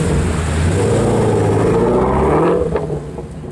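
A Ford Mustang engine runs at a car meet, a loud, steady low rumble that holds throughout and eases slightly near the end.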